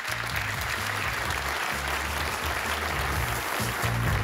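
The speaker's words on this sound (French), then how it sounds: "On peut les applaudir bien fort." Steady, loud audience applause for a quiz show team fills the whole stretch without a break, over a low rumble of music or crowd noise.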